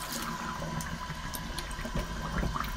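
Water runs steadily into a film developing tank, a continuous gushing splash with slight gurgling, close and fairly loud.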